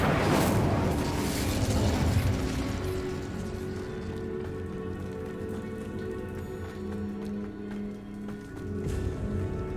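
A fiery Incendio spell cast in Hogwarts Legacy bursts with a loud whooshing flare at the start, then settles into a steady crackling, hissing burn that lingers to the end.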